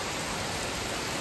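Steady, dense rain pours down with a constant hiss, close and unbroken, with no voices over it.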